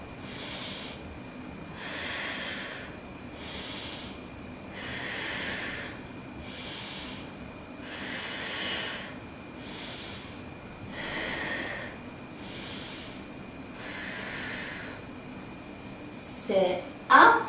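Slow, deep breaths during a yoga stretch come in an even rhythm of long airy inhales and exhales, close and clear, with a brief louder rustle at the end.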